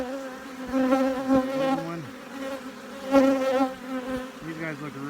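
Honey bees buzz around a small nuc hive with brood frames, a close, wavering drone that rises and falls as individual bees pass the microphone.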